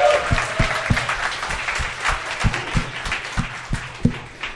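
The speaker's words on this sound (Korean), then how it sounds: "박수로 환영해 주세요." A studio audience applauds to welcome a guest, a continuous wash of clapping with a few louder, closer hand claps standing out throughout.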